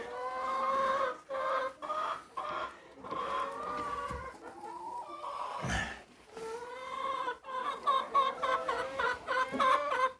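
Several hens cluck and murmur in overlapping, uneven bursts, close by, with a short low thump midway and no talking.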